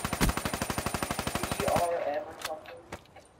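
Rapid automatic gunfire in the Black Ops 3 beta video game kill cam, a fast even burst of about twenty shots lasting nearly two seconds, followed by a few scattered louder shots and echoes.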